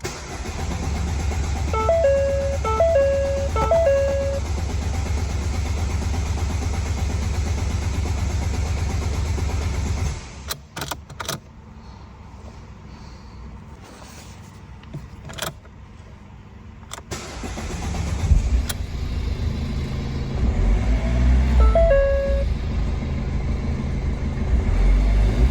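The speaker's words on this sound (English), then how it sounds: "If you can get it running, pick up the revs straight away to try and bring the fuel to the filter quickly." A Ford Fiesta 1.6 TDCi diesel engine runs loudly after a fuel filter change, cuts out, then cranks with sharp clicks and restarts with a surge of revs before settling into a steady, close idle.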